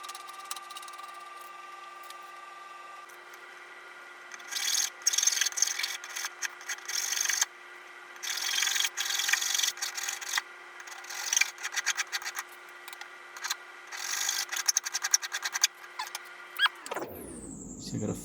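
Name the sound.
filing off metal pins on a vise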